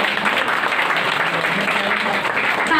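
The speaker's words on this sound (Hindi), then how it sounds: "जोरदार तालियां हो जाए" An audience in a hall claps loudly and steadily, a thick, continuous patter of many hands with no break across the whole stretch.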